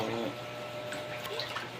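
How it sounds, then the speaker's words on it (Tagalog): Floodwater pours into a house during a flood, making a continuous close rush and splash of running water. A voice is briefly heard at the start. "Kasi pumasok na yung tubig."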